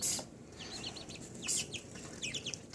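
Three chicks and three ducklings together in a cage, making faint, quick high peeping chirps in several short bursts, with a couple of brief louder rustles and no talking.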